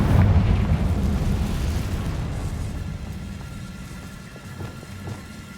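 A Confringo spell explosion in the Hogwarts Legacy video game, a heavy rumbling blast at the start that decays into a long, fading roar and debris-like hiss.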